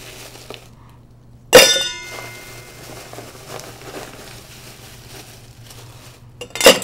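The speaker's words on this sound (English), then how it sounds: "We're gonna go ahead and get some ice and put it in the shaker" Ice dropped into a cocktail shaker gives a sharp, loud clatter of cubes striking metal, then a faint lingering ring, with a second burst of rattling near the end.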